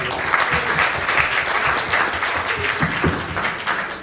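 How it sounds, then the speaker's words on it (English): Audience at an IIT Kanpur class reunion celebration giving a sustained round of applause, a thick, even wash of many clapping hands filling the hall with a few voices underneath. "a special round of applause for them again"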